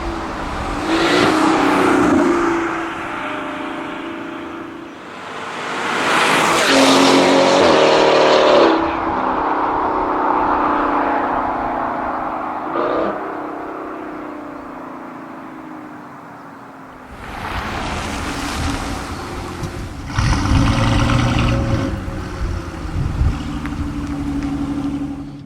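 A Mercedes-AMG C63 V8 revs hard and downshifts in several loud bursts, with rising and falling engine tones, a long fading rundown in the middle, and another aggressive burst of revving near the end.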